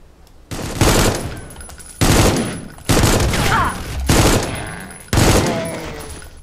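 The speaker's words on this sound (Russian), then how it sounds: "Они стреляют с таких же дробашей, что и я." Five heavy shotgun blasts in a video game, loud and close, each a sharp boom with a decaying tail, spaced roughly a second apart.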